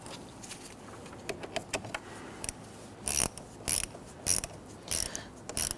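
A ratchet tightens the positive battery terminal on a 2010-2019 Ford Taurus, with quick rapid clicks that give way to louder, bursty ratcheting strokes, close up with no speech.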